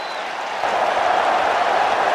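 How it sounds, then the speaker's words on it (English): At a USC vs LSU college football game, a stadium crowd claps in a dense, steady roar meant to draw the offensive line offside, swelling slightly louder partway through. "they're clapping, trying to draw my offensive lineman off"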